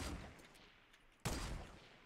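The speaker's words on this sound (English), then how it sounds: "Oh, there's shots being taken." Gunfire in the video game Fortnite, a dense burst of shots opening the clip, fading, then another sharp loud burst about halfway through that carries on to the end.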